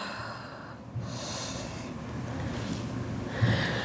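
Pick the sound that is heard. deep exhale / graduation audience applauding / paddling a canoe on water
deep exhale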